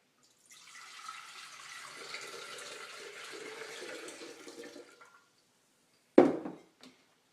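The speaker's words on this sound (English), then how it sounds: "put in filtered water." Filtered water is poured into an almond milk machine in a steady, close splashing stream lasting a few seconds, followed after a brief pause by a sharp clunk as a part is set in place.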